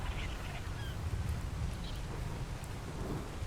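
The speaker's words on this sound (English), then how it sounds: "Are these birds." Birds honk in the My Summer Car video game. A few faint, brief honks rise over a steady rumbling backdrop that sounds like rain, with no voices.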